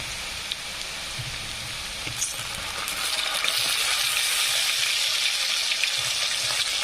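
Finely chopped tomatoes hitting a hot pan, a soft hiss that swells into a steady, close, rain-like sizzle and holds.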